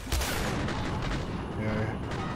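Gunfire from a weapon with time-altering, steerable bullets in the game Singularity, a dense, loud burst of booming shots running continuously over a couple of seconds with no talk over it.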